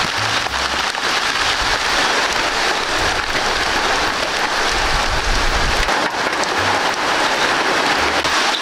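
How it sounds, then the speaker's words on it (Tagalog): Heavy rain pours at night onto a fishpond, a dense, loud and constant hiss of drops hitting water and surfaces close by, with faint low thumps underneath and no talking. "So umuulan po dito ngayon mga kalab."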